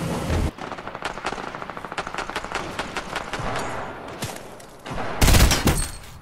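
Gunfire in Fortnite: a loud opening shot, then a long run of quick, uneven shots in close succession, a brief lull, and a final heavy blast.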